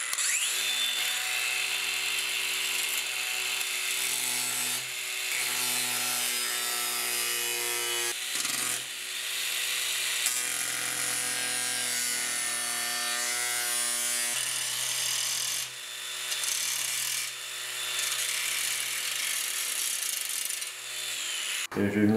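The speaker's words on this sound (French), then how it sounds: "je vais faire un petit chanfrein à la meule avec les disques spéciaux pour l'alu" Angle grinder fitted with special aluminium discs cutting a chamfer on aluminium for welding a jet boat, a steady high-pitched whine with a grinding rasp, briefly dipping several times as contact changes, loud and close.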